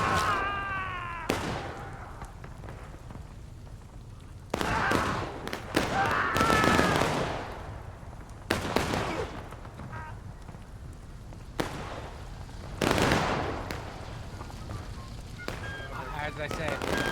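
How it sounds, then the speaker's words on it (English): Alternating ranks of musket volley fire in the War of Rights game at a 1776 event battle on the Outskirts map, sharp broadband volleys cracking at irregular intervals, some close and loud, others more distant, over a steady battlefield background. "Looks like we got some alternate ranks of firing here"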